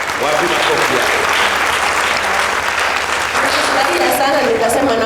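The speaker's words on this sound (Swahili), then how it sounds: "wapi makofi yako?" An audience on a Swahili television game show applauds: dense, steady clapping fills the whole stretch at an even, loud level.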